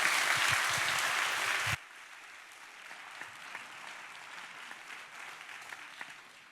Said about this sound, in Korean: 우리 감독님 동일하게 우리 박수로 환영해 주십시오.